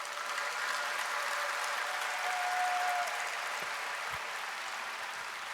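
Sustained audience applause fills a seminar hall at a 2017 Bible seminar in Seoul, a steady even wash of clapping holding at a constant level throughout with no voices over it.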